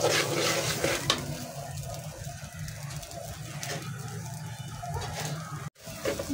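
Rice frying in a pan for biryani gives off a steady, moderate sizzle, broken by scraping stirs and a few sharper clatters near the end.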